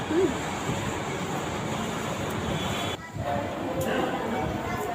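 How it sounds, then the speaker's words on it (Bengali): A continuous rumbling hum from a moving metro train heard from inside the carriage, steady and moderately loud with a brief dip midway. "হ্যাঁ মেট্রো ট্রেন হ্যাঁ এই ট্রেন ছিল আমরা এই ট্রেনে উঠেছি প্রথমবার"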